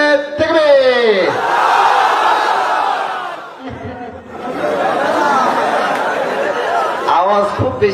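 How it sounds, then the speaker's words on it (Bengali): A large crowd at a religious gathering before Ramadan in Satkhira, Bangladesh, shouts takbir in unison in two long, loud surges separated by a brief lull, with a leader's voice calling to start each one. "তবু আব্বাজানরা যথেষ্ট আওয়াজ দিয়ে তাকবীর দিয়েছে"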